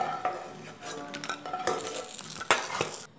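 Fried lentil dumplings (bori) lifted out of a kadai, with clinks of a metal spoon against the pan and soft scraping over a faint sizzle of oil, in a few irregular bursts.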